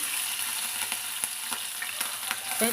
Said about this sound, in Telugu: ఆయిల్ వేసుకున్న తర్వాత సన్నగా కట్ చేసిన పచ్చిమిర్చి ముక్కలు